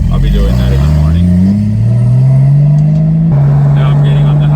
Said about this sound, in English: Let's see how that exhaust sounds. It's pretty loud.